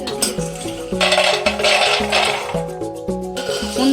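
Almonds being stirred in a dry pan while roasting, with repeated scraping and rubbing strokes of a spoon, close and steady, over a faint musical background.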